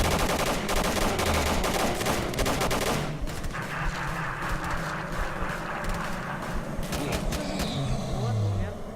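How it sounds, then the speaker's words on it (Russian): Gunfire in the video game S.T.A.L.K.E.R. Wind of Time: dense, rapid shots and bursts crackling through the clip, with voices talking over the shooting. "Там уже стрельба идет."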